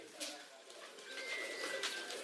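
Pigeons cooing in a village pigeon loft in Punjab, a low, soft, continuous warbling coo from several birds nearby, with faint chirps over it and no talking.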